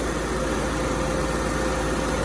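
A 1994 Buick Century's 2.2-liter pushrod four-cylinder idles with a steady, even drone that stays close and constant, with no voices over it.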